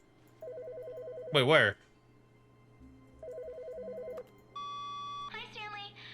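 A ringing telephone inside The Stanley Parable Ultra Deluxe video game, its electronic rings sounding in short bursts between bits of a man's speech.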